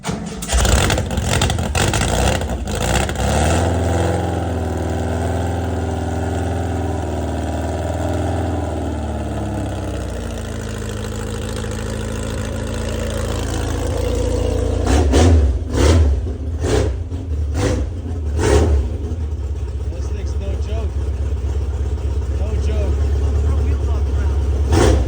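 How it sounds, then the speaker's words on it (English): A 1962 Kellison GT40 kit car engine cranks and fires, a few sharp bursts giving way to a rumbling idle, then several throttle blips before settling back into a steady, close, loud run; someone talks near the start. "So now you turn the fuel on, turn the ignition on."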